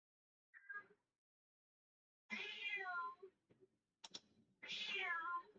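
A kitten gives a short, faint squeak and then two longer, clear meows separated by pauses, with a small tap between them, heard close and alone in a quiet room.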